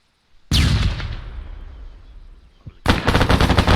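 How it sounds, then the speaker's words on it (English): A flashbang grenade goes off during a room breach in the video game Arma 3: one loud, sharp blast followed by a long fading ring, then a second burst of loud gunfire-like noise near the end. "Okay, flashbang going out."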